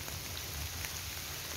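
Steady outdoor rain pours down during a Sydney fishing session with storm drains running, a continuous dense hiss of drops hitting nearby surfaces with no talk over it.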